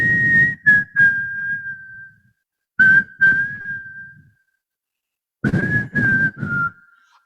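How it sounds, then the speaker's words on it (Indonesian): Someone whistles a slow, sustained tune in three separate phrases, each starting with a few short breathy notes, with quiet pauses between them. "Ada kalanya saya bersiul."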